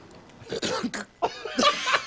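Several harsh coughs and a throat clearing from a played-back recording, a short burst of hacks that come close and loud in quick succession.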